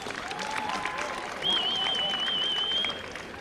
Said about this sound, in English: we should give a tremendous round of applause to all the participating team here tonight